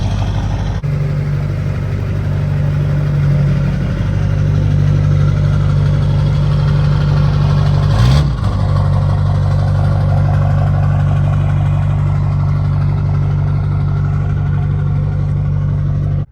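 An LB7 Duramax diesel truck engine, freshly started during a rebuild, runs at a steady, loud idle with a constant low throb and one brief knock partway through.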